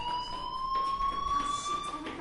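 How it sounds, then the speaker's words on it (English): A fire alarm in the video game Life is Strange rings with a steady, sustained electronic tone and harmonics, holding at a constant pitch throughout over faint background noise. "do you hear that fire alarm? That means you should be outside."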